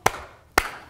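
Two sharp claps from a group of people, a short pause between them, keeping time along with the children's song Bingo in a puppetry session for educators.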